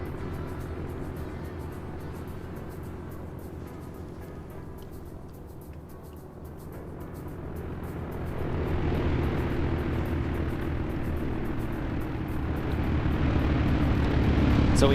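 A propeller plane droning in a multiplayer combat game match, a steady engine hum that swells louder and nearer partway through and stays strong to the end, with no talk.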